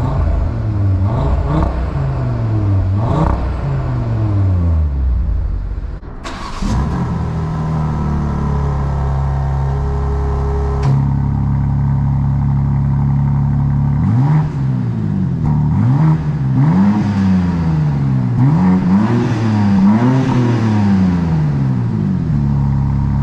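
A 2024 BMW M2 fitted with aftermarket midpipes revs repeatedly in sharp rising and falling bursts, close and loud, with the engine settling between blips and no voices.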